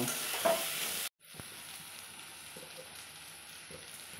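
Potatoes with spices frying in leftover hilsa fish frying oil, a brief loud sizzle at first, then a short cut and a quieter, steady low crackle.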